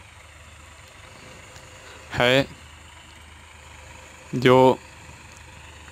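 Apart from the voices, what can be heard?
Massey Ferguson 9000 tractor engine idling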